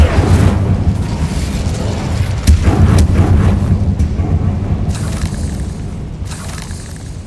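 Incendio fire spell blasts in Hogwarts Legacy: a loud burst of booming, rumbling fire over a thick low roar, with sharp crackling impacts around the middle and fading bursts toward the end, no talking.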